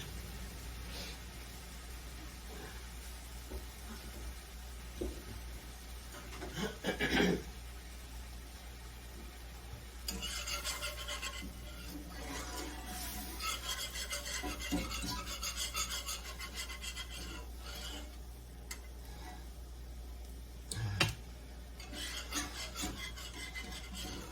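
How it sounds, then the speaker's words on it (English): A whisk scraping and rasping around a pot of crockpot cubed steak gravy: bursts of rhythmic metal-on-pot rubbing come and go over about twenty seconds, with a few louder knocks and a low background hum. "I'm gonna get my whisk."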